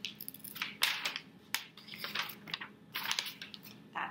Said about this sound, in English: I'll use my scissors to cut in